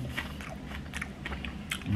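Crispy fried chicken is bitten into, with several close, crisp crunches spaced through the clip over a faint background hum.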